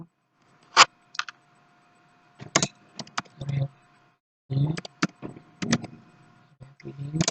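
Program code is typed on a computer keyboard in bursts of sharp, close key clacks separated by short pauses.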